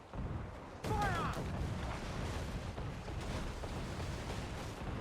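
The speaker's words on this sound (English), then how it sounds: "now we need to use heavy shot to sink." Ship cannon fire in the Assassin's Creed IV Black Flag naval game, a burst of heavy booms with crackling debris, followed by a sustained rumbling roar of battle noise.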